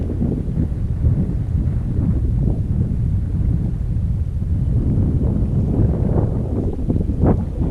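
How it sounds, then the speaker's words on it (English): Wind gusts in a steady, heavy roar across the microphone while kayaking on an Everglades canoe trail, a close low rumble with no talking. "This speed is just the wind pushing."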